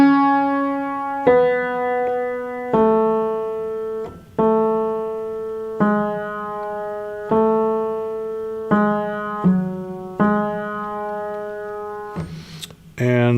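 A tenor line from a Bach chorale, played as a slow series of sustained single notes with clear harmonics, about nine tones each held a second or two, moving stepwise at a steady pace, close and alone.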